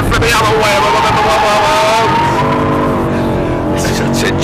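A BMW race car slides sideways through a tight chicane at Thruxton Circuit, its loud engine note shifting as the tyres squeal, with someone talking over it the whole time.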